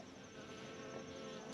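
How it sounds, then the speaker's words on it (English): Bees at a small nuc hive on a North Carolina farm give off a faint, steady buzzing hum that holds unchanged throughout, with no voices. "You can see a lot of bees out there."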